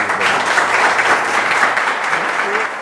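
Applause for a doctor at a multiple sclerosis forum, a steady wash of many hands clapping that holds evenly for almost three seconds before easing at the very end.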